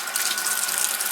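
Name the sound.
water running from a tap while washing hands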